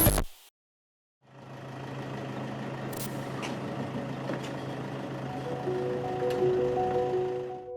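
Vehicle engine idling steadily with a low rumble, close by, after a brief loud knock and a second of silence at the start; a faint whine rises near the end, with no talk.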